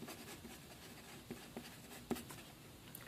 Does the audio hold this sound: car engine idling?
no